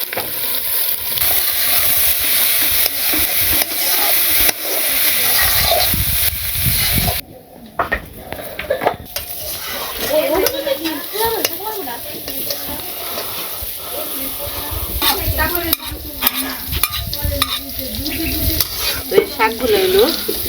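Greens, green chilies, onion and fish roe sizzle steadily in hot oil in a village kitchen, with scraping stirs and a voice talking over the frying.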